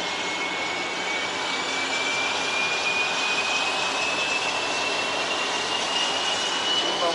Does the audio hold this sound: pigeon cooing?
no